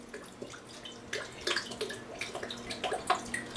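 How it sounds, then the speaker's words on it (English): Filtered rainwater is poured over fresh lavender and mint herbs for tea, a soft, close trickle and splashing with small drips, fairly quiet throughout. "I'm going to take my filtered rainwater and just pour right over the top of"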